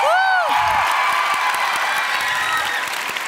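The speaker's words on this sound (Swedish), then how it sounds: "Ah, en applåd på det." Loud, dense audience applause with cheering and whoops fills a Swedish YouTube awards show hall, steady and close throughout, with a brief voice at the start.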